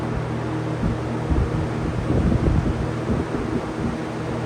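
A Lakewood P-223 box fan runs on its high setting, a loud, steady rushing roar of air close by, with low buffeting thumps, alone without speech.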